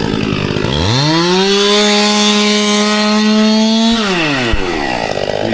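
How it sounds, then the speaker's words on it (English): Chainsaw cutting down tree stumps, engine revving up to a loud steady whine for about three seconds then dropping back, close and continuous. "Elliot's cracking on with cutting the stumps down"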